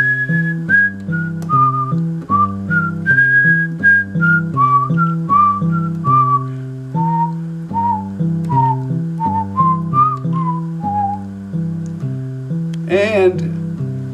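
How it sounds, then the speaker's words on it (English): A person whistles a tune alone, clear close melodic notes in a bouncy repeating rhythm, ending with a quick warbling flourish. "we'll also be doing some instrumental stuff like whistling"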